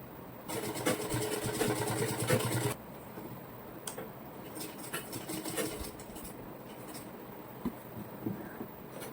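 Sewing machine stitching folded fabric along the hem of a ladies' designer bottom pant, a fast buzzing run of stitches that stops abruptly, followed by quieter handling and short mechanical clicks.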